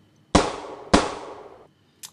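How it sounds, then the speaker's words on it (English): Two sharp, loud gunshot blasts from a downloaded sound effect, each followed by a long decaying tail, then a faint click near the end, with no talk. "I downloaded a gunshot sound that sounds like this."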